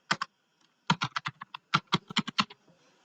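Keys tapped on a computer keyboard in quick irregular bursts, close and fairly quiet, with a short pause before a longer run of rapid keystrokes.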